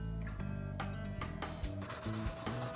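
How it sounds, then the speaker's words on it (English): Scotch-Brite pad scuffing a tube ahead of priming, a steady close rubbing and sanding friction with repeated strokes, loud and alone without any voices. "Little Scotch-Brite, rough it up."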